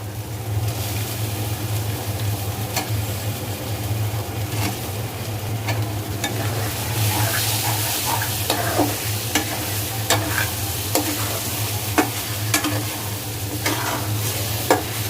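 Shell-on shrimp stir-frying in spice paste, a loud steady sizzle with repeated spatula scrapes and taps growing busier toward the end, close and without speech.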